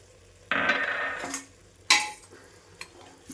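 Mutton chops stirred and frying in a pan with chopped coriander and mint, heard as bursts of sizzling and scraping as the pan is worked, with faint clinks between them.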